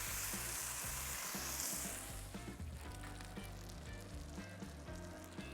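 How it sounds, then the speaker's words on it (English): Steady, loud sizzling of a burger searing on a hot griddle, with a constant crackling hiss and a low background hum throughout. "Oh, and listen to that sizzle."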